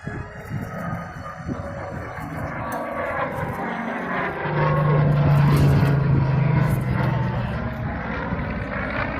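A P-63 Kingcobra warplane flies past at an air show, its propeller engine a broad roar that swells in the middle as it comes nearer, set against outdoor crowd ambience.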